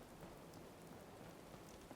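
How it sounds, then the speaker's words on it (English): Heavy rain in the video game Fallout 4 pours as a dense, steady hiss with faint patter and a low rumble underneath, fairly quiet and continuous with no talk. "The rain is quite heavy right now"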